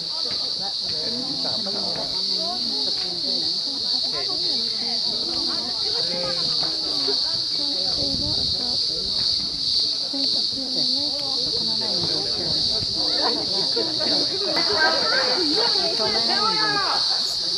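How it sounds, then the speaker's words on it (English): Noisy cicadas drone in a steady, loud high-pitched buzz throughout, heard outdoors near the Three Sisters in the Blue Mountains of Sydney, with a person talking over the insect chorus. "Some very noisy cicadas."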